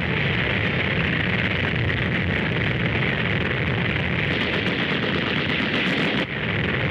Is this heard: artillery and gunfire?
yes